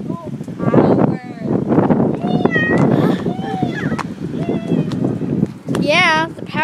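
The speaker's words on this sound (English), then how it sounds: "Oh, a kitty!" A cat in a park gives a few short, high meows that rise through loud, excited voices and shrieks, with the clearest cry near the end.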